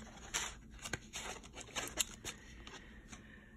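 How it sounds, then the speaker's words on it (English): A deck of tarot cards being shuffled close up during a reading, giving a series of short papery riffles and soft flicks in uneven bursts, with nobody talking. "This is going to be the last deck I'm going to shuffle."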